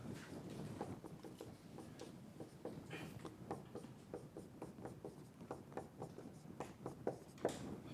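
Chalk or marker strokes on a lecture-hall board, a steady run of short scratchy taps and squeaks heard fairly close and alone, with no talking.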